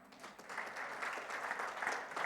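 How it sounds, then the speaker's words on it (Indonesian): Church congregation clapping during a Sunday worship service, a soft, distant patter of many hands that swells slightly and holds steady throughout. "Yang percaya boleh tepuk tangan."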